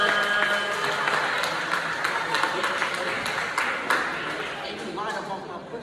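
Audience applause for Amar Walker at the Buckeye Middle School YMOE program ceremony, a steady mid-level patter of clapping across the room with a few cheers and voices mixed in throughout.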